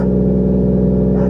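A manual-transmission Toyota Camry engine runs at raised revs, a steady droning hum with a strong low tone held evenly and close, no talking over it.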